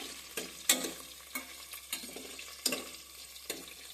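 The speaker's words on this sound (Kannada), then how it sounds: "ಈರುಳ್ಳಿ ಸ್ವಲ್ಪ ಕೆಂಪಾಗೋವರೆಗೂ ಫ್ರೈ ಮಾಡ್ಕೋಬೇಕು" Onions fried in oil with mustard seeds for a tempering, a soft steady sizzle with repeated scraping stirs of a spoon against the pan, close and fairly quiet, no voices.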